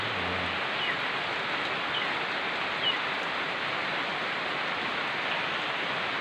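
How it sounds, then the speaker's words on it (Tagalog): A constant roar of heavy rainfall fills the scene, a dense steady hiss with a brief low hum at the very start. "Sa angel, lakas ng ulan guys."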